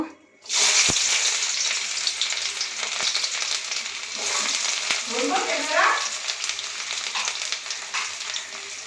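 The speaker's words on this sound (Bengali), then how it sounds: "আর এই শুকনো লঙ্কাটা আমি তেলে প্রথমে দিয়ে দিলাম" Dried red chillies hit hot oil with a loud, continuous sizzle that flares after a sharp start and crackles steadily throughout, close and unbroken.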